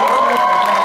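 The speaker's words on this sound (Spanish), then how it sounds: "Así que un aplauso, por favor." Audience applause at a live radio broadcast at the Instituto Mexicano de la Radio, a brief, loud, continuous wash of clapping and crowd noise.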